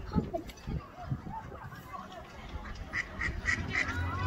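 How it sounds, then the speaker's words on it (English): Scattered duck quacks at a UK beach, some near and some farther off, over a noisy outdoor background with people talking. "Have you noticed how many ducks are here all of a sudden?"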